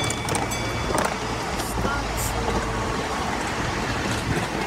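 Continuous rumbling and rattling of a miniature train ride with a family aboard, steady low-pitched rolling noise with a few brief clanks and knocks.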